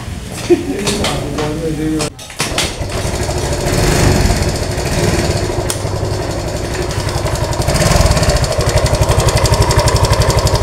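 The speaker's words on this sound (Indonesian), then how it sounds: "di sini muncul suara kasar karena ini bagian mesin Pak ya" A rough, rattling motorcycle engine with oil-contaminated CVT runs steadily with a rapid mechanical pulse, loud and close, after a brief dropout near the start.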